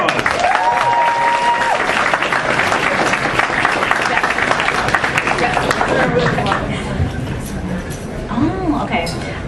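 Audience applause at East Coast Comicon 2018, a large crowd clapping steadily throughout with cheers and a few whoops rising near the end.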